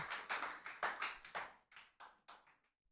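A worship congregation at a Tuesday church service claps hands in a steady rhythm, about a dozen claps that are soft and fade out toward the end.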